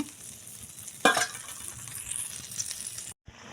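Fish and pointed gourd curry gravy simmering in a pan, a steady close frying sizzle with a brief louder stir or clink partway through, then a sudden short cutoff near the end.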